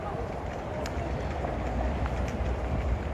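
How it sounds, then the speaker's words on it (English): Small trains roll around a restaurant delivering drinks and collecting glasses, a continuous rumbling clatter with faint sharp clicks over a busy dining-room murmur. "Trains riding around all the time, bringing drinks and taking away glasses"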